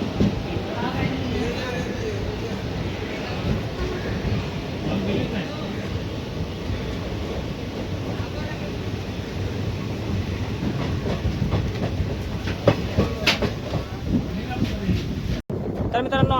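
Koyna Express train running through the Adarki ghat section, a continuous rumble of rolling wheels and wind noise heard from aboard, steady and loud throughout with a sharp click near the end.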